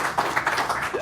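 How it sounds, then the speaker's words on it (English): A brief burst of crowd applause at a radio station's 80th birthday party, steady clapping heard up close for about a second with a voice mixed in underneath. "How about a big round of applause for Bill Sharp, ladies and gentlemen?"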